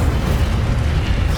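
An Incendio fire spell bursts in Hogwarts Legacy: a dense, roaring whoosh of flame with a heavy low rumble that stays loud and steady for a moment.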